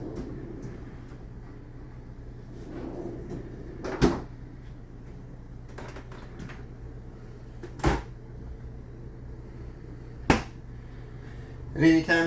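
A refrigerator door in a 2021 Tandara 375BHOK bunkhouse fifth-wheel RV opens and shuts, giving a few sharp clicks and thumps spaced seconds apart over a low steady hum.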